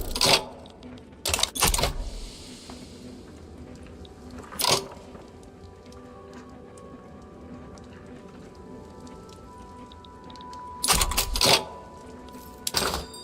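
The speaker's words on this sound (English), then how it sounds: "the how the keyboard sounds are not affecting the stream that much, right?" Bursts of keyboard typing come in clusters near the start, middle and end, with quieter clicking in between, set over a steady low hum from a gaming setup.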